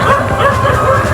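A dog barks and yips close by, a brief run of excited barks with a whining edge.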